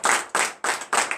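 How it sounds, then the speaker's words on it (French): Rhythmic clapping at a morning prayer service in a church congregation, four loud evenly spaced claps in quick succession, close and without talk. "Donne l'acclamation à Jésus."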